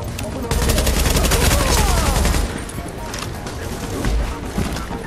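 Sustained automatic gunfire rattles loud and close during a firefight in the shooter game The Division, with rapid overlapping shots that ease slightly in intensity partway through.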